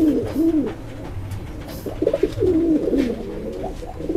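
A light brown pigeon coos close by, giving repeated soft, throaty rolling calls in short bursts over a low background rumble.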